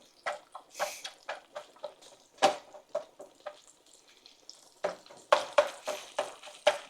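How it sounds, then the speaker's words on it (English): Hamburger meat frying in a pan while German food is cooked, a steady sizzle broken by repeated scraping stirs that come in quick uneven bursts, close and moderately loud with no talking. "I'm gonna get this Hamberger meat going"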